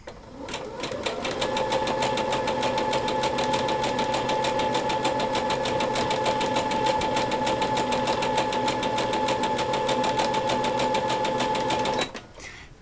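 A sewing machine stitches fabric in one continuous, rapid mechanical run lasting about eleven seconds, steady and close, then stops abruptly.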